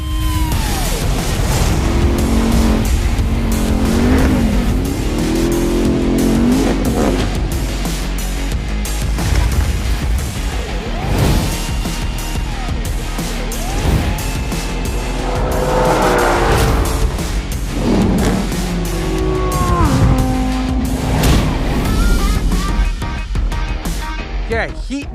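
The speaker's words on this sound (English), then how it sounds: "we're doing elimination-style drag racing" Cars accelerating hard off the line in an elimination-style drag race, including a Porsche Cayenne Turbo Coupe against a pickup truck, with loud continuous engine roar rising and falling through gear changes and some tyre squeal, a voice talking over it.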